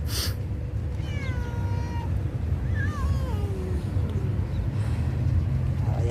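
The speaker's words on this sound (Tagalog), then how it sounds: "Eto guys, magpakain tayo ng pusa." Stray cats meow in a park, two or three drawn-out cries in quick succession, fairly near, over steady low outdoor rumble with a brief rustle at the start.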